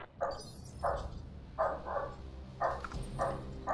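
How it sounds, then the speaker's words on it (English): A small Jack Russell terrier barks in the background in about five spaced bursts of sharp yaps, each lasting a fraction of a second, somewhat muffled and heard over a low ambient hum. "Hopefully you can't hear my little dog going nuts. Jack Russells, man, they are crazy."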